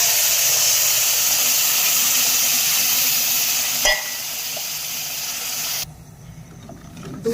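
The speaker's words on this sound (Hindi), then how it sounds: "तो अब हम इसमें साथ में ही दूध डाल देंगे।" Milk is poured into a hot pan of sugar and semolina for halva, producing a loud, steady steaming sizzle and hiss that drops abruptly to a quieter bubbling simmer near the end.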